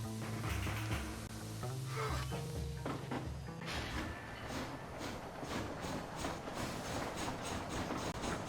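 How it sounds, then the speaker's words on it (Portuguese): A steam locomotive in the video game Red Dead Redemption runs along the track with a steady rhythmic clatter and mechanical chugging. Low tonal notes sound early on, and the whole passage stays fairly faint. "Caraca, agora a gente vai dirigir o trem, irmão."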